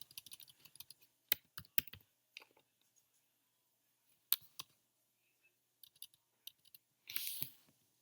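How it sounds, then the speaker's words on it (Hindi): Someone types and clicks on a computer keyboard close by during software setup. The keystrokes come in short, uneven bursts with pauses between them, and a brief hiss follows near the end. "स्टार्ट पे क्लिक करेंगे और यहाँ पे हम एज्योर टाइप करेंगे"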